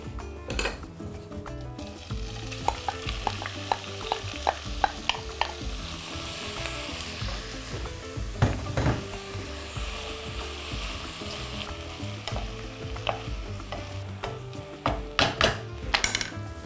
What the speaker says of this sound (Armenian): Մի քանի կաթիլ ձիթայով ենք լցնում եւ պատյանները նախ տապակում ենք